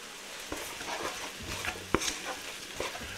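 A spoon stirs browned meat, onions and carrots in a pot for a hotpot, giving soft scraping strokes with a few sharper knocks against the side over a light sizzle.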